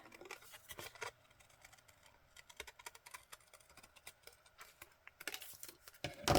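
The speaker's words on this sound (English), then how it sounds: "I'm going to cut on the inside" Scissors snip through paper with crisp, irregular cuts, trimming inside a shape for a junk journal page; close and fairly quiet, with several clusters of snips and a brief pause midway.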